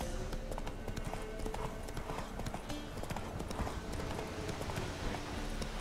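Horse hooves clip-clop at a brisk, steady trot in The Witcher 3, a string of even hoofbeats heard close, with no speech over them.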